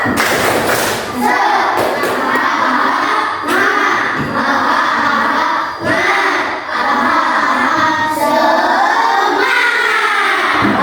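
Primary school class performing a rhythmic spirit clap chant in an Indonesian classroom, children shouting in unison over rhythmic hand claps and thumps, loud and close, sustained throughout.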